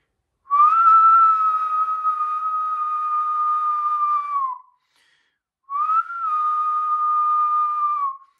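Very loud, piercing mouth whistle held at a steady pitch in two long blasts, each several seconds, separated by a short pause, close to the listener with no talking.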